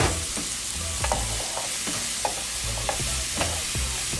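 Broccoli stirred into a sizzling jerk chicken pasta mixture in a pan, with a steady fry hiss under repeated scraping and clattering strokes of the spoon, close and clear with no talk.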